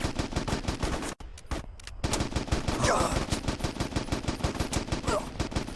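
Rapid automatic gunfire rattles almost without pause through an ambush in the video game Mercenaries, broken once by a brief lull before the dense, loud bursts resume.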